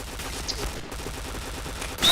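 Rapid gunfire in a video game plays as a steady, dense rattle of shots at a fairly even level, with a louder burst at the very end and no talk over it.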